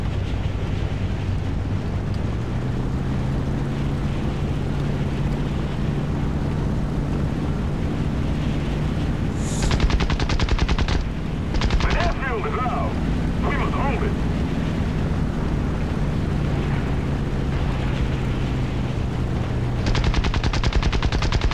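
Aircraft machine guns firing in War Thunder, rapid bursts of automatic fire rattling over a steady droning engine hum, with players talking in Spanish throughout.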